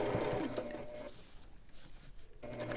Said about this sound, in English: So I'm basting down one side, and I'm going to baste down the other, just to hold it in place.